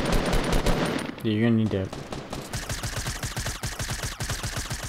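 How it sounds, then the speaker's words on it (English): Rapid automatic gunfire from Fortnite Battle Royale gameplay, a dense burst of loud repeated shots running through most of the stretch, with a player talking briefly over the action. "he's shooting his own teammates' wall"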